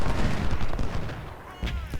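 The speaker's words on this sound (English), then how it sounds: "we are now getting shot at from the cover of these woods" Musket gunfire from Civil War troops hidden in woods in the strategy game Ultimate General: Civil War, a ragged burst of overlapping shots crackling at mid distance, then a brief lull before another pair of reports.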